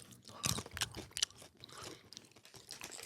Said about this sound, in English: Can't make crunching noise in the microphone